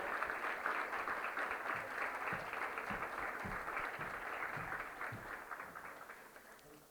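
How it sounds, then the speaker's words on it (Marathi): An audience at an NCC rank ceremony for students claps steadily in a sustained round of applause that fades slightly toward the end, with no talk over it. "जोरदार टाळ्या वाजवून आपण सर्व विद्यार्थ्यांचं कौतुक करूया"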